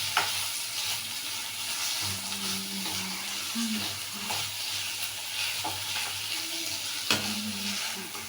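Soft, steady sizzling of curry leaves sautéing in a pan for an ivy gourd stir-fry, with occasional light clinks of a spoon stirring, low and close with no voices.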